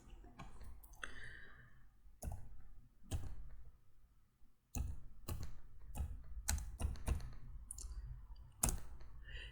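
Keys clicking on a computer keyboard while a date is entered in Microsoft Excel, separate sharp taps spaced out at first, then a quicker run of presses, close and clear in a quiet room.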